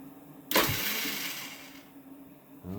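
A 2020 KTM 300xc TPI enduro bike in the cold gives a sudden loud starter whir that briefly surges and then winds down, with a hint of engine catching near the end.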